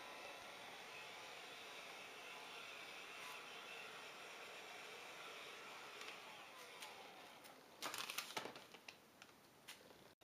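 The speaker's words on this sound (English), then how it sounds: "Here I am just applying a small amount of heat from a heat gun, the heat gun set on low" A heat gun set on low blows steadily over a freshly applied top layer of wood stain, a continuous airy hiss that holds even throughout, with a few sharper clicks and scrapes near the end.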